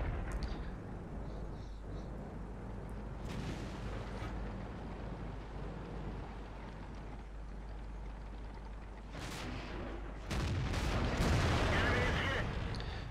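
An SU-100 tank destroyer's gun fires in the World of Tanks video game, with heavy booming blasts over a low rumbling battle backdrop and a louder burst of action near the end.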